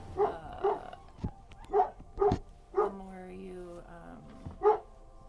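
A dog barks in short repeated bursts, several sharp barks and yips with a whimpering tone, fairly close and loud, spread across the moment with brief gaps between them.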